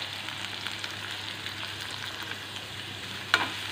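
Onion, green chilli and curry leaves sauté in a pan, giving a quiet, steady sizzle with a brief sharper crackle near the end.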